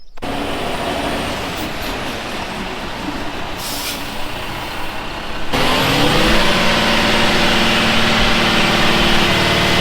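A concrete truck rolls in for a farm concrete pour, its diesel engine rumbling steadily and growing louder and closer partway through, with a brief air-brake hiss before it settles into a loud idle.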